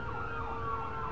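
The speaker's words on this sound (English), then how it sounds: "Excuse the sirens" Sirens wail in a rising and falling pattern, fairly loud and steady, with a low traffic rumble underneath.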